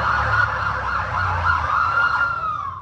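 An ambulance siren wails steadily and fairly loud, its pitch sweeping up and down over a low engine and traffic rumble, with no voices.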